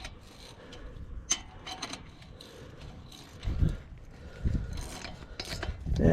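A wrench tightens a brake caliper bolt on a Chevy Tahoe during a brake pad replacement, giving quiet rasping, ratcheting metal turns with a few louder clicks and rubs near the end.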